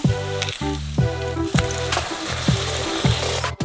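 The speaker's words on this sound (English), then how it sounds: "Dip the nori triangle on one side, and deep fry it." Dough-dipped nori triangles deep frying in hot oil give a steady crackling sizzle, partly covered by loud rhythmic background music.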